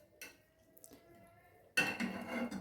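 A spoon clinks against a pot as milk is stirred into a carrot mixture, a few light taps followed by a louder burst of scraping and sloshing near the end.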